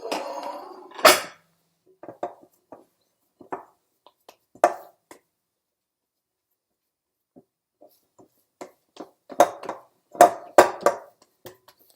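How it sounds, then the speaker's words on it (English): Plates moved away from an oven in a home kitchen, with scattered clinks and knocks of crockery set down, an early clatter and a cluster of sharper clanks near the end, close and separated by quiet gaps. "Let me get the plates away from the oven."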